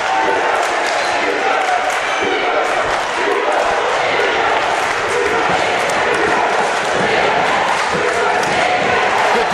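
Loud, continuous crowd noise fills a high school basketball game between Olive Branch and Provine, cheering and roaring throughout with scattered thumps, and a commentator talks over it.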